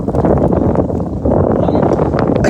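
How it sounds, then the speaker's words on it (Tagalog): Strong wind buffets a microphone on a fishing boat out on the water, making a loud, continuous roar with no break and no voices. "Ay, grabe ang hangin"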